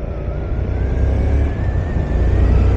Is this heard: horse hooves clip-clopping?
no